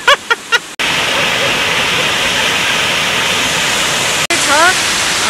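Continuous heavy rush of a waterfall at Latpanchar, broad and close, with brief chirps or voices at the start and a short interruption near the end before the roar resumes.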